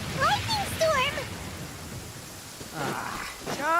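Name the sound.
thunderstorm with rain in a video game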